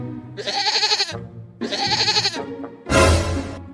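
Goat kids bleating loudly and close, with two long wavering cries followed by a shorter, harsher one, each separated by brief pauses.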